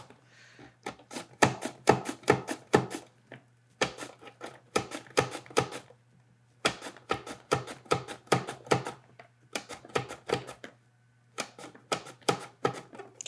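Knife slicing vegetables for ratatouille on a cutting board, quick crisp taps in fast rhythmic runs separated by short pauses, close and clear with no talking.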